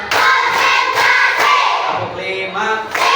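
Classroom of young pupils clapping together in a counted rhythmic routine, loud near claps in a steady beat with voices chanting along over them.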